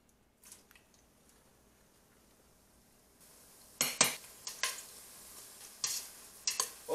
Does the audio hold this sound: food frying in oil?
yes